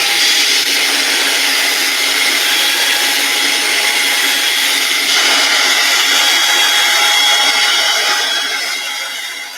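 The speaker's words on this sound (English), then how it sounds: "this is a hairdryer, not a heat gun" A hairdryer on a very cool setting blows continuously with a steady, loud whirring hiss, holding constant and easing off slightly at the end.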